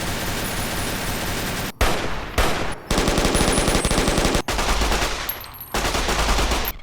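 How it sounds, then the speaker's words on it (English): Gunfire from weapons in the Fallout New Vegas video game sounds as loud, dense rapid automatic bursts with brief pauses between strings of shots, each burst harsh and continuous. "So these are what regular weapons sound like at a regular level."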